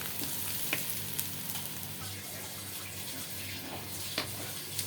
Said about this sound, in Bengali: রসুন দেওয়া এখন ফোড়ন দেবো আর কি।